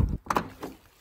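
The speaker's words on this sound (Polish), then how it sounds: "Otworzymy sobie może drzwi." A door on a Mercedes Vario camper van opens with a short metallic clunk and latch sounds, followed by a softer thud. It is close and brief.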